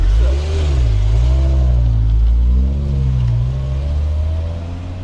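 A BMW car with a slipping clutch revs loud and close. The engine drone rises and falls in pitch without settling as the revs surge.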